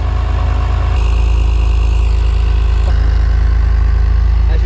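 A car engine idles while running rich, holding a loud, steady low rumble close by with no break and no voices.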